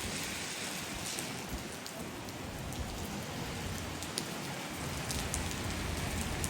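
Rain on a stormy day in Iceland during a walk outdoors, a dense, even hiss of drops pattering on surfaces with occasional sharper splats, continuous and fairly close throughout.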